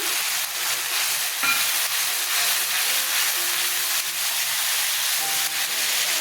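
Turmeric, cumin and coriander paste sizzles steadily in a hot pan alongside ginger-chili paste, a constant loud frying hiss with faint stirring clatter and no talk.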